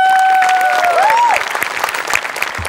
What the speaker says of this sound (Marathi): आपल्या टीमसाठी एकदा टाळ्या वाजल्या.